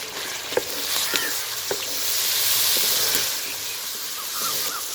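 Tomatoes added to frying masala of green chillies, ginger and garlic paste in a karahi for gobhi karahi, a steady close sizzle and hiss with a few sharp clinks of stirring, no talk.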